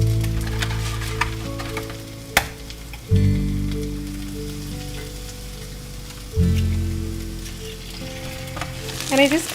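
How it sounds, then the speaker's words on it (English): Eggs tossed onto cauliflower in a hot pan, a soft continuous sizzle with a low steady hum beneath, marked by a few sharp clanks and thuds of utensils against the pan, with no talk. "I just kind of throw the eggs on top of the cauliflower so they don't like immediately hit the hot pan"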